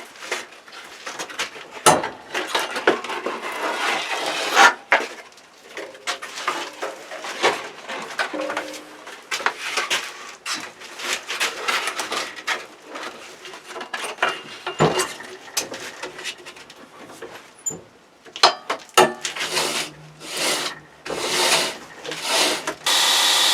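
A knife bevel being sanded by hand with 120 grit abrasive, steady close rasping strokes repeating in an uneven rhythm, with a brief pause before quicker, sharper scrubbing strokes near the end.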